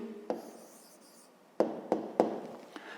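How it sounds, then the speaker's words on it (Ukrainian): A pen writes out a maths answer, with faint scratching and a few distinct taps and strokes against paper, quiet and close. "Ну що ж, записуємо тоді відповідь."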